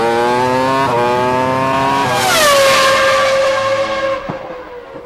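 Formula 1 car engine revving hard up to 16,000 rpm, a loud, close, rising howl with a short gear-change dip, then a peak scream that falls away to a lower sustained tone.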